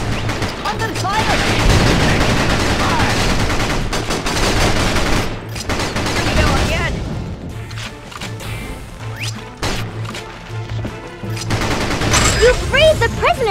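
Continuous gunfire and explosions fill a battle in the war video game Battalion Wars, with dense rapid shots and crashes over game music and occasional shouted game voices.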